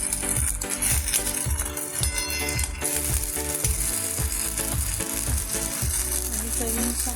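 Potatoes and green peas fry in masala for aloo matar rasa, giving a steady close sizzle that runs the whole time under a rhythmic, music-like beat.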